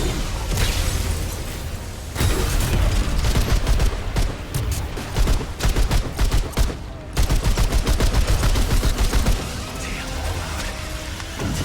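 Rapid automatic weapon fire in the video game Remnant 2, loud and sustained in dense rattling bursts with short gaps, mixed with booming explosions and pops.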